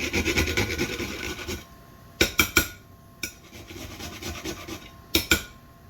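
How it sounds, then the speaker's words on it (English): Whole nutmeg rubbed against a kitchen grater while making sour cabbage rolls: a steady, close rasping scrape at first, then a handful of sharp, isolated scratchy strokes separated by short pauses, with no voices. "And that's about all I'll grate, so that's not even half a nutmeg."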